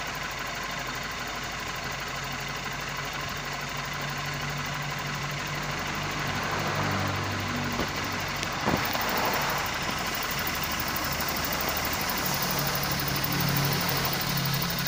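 A car engine idles steadily with a faint ticking texture from the fuel injectors, close and even throughout, rising slightly in level partway through.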